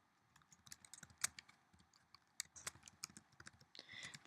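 Quick irregular keystrokes tap on a computer keyboard in a quiet room, in bursts of close, soft clicks with a few sharper hits.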